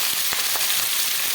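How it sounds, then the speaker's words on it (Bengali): Cauliflower, carrot, pumpkin and potato sizzle together in hot oil in a pan, a steady dense frying hiss with a few soft crackles and pops, close and continuous with no voices. "সমস্ত সবজিগুলো আমি একবারে দিয়ে দিলাম, দিয়ে একটু ভালো করে ভেজে নেব।"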